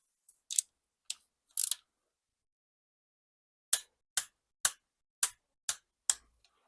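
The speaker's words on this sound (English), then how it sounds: "There is no specific torquing sequence for this, so I'll just go from inside outwards." A torque wrench tightens bolts on a BMW 750i V8 engine with sharp, close clicks: a few scattered ones, a pause, then a steady run of six evenly spaced clicks.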